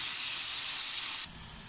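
Beef bourguignon simmering gently in a pot, a steady soft sizzle and hiss that drops to a quieter bubbling partway through, heard alone without voices.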